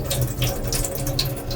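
Pumpkin flowers rinsed under a running tap, a soft continuous trickle with small splashes and a faint drip, quiet and close, no talking.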